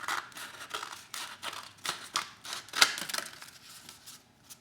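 Scissors snipping through a sheet of paper to cut it in half, a series of short, crisp cuts in an irregular rhythm, close and fairly quiet with no talking.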